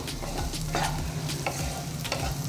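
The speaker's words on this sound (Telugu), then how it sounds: "వేసుకొని వీటిని బాగా ఒకసారి కలిపేసుకుందాం." Potatoes with salt and turmeric being stirred in a pan over medium flame for aloo methi curry, a steady scraping stir over a soft continuous sizzle, close and alone.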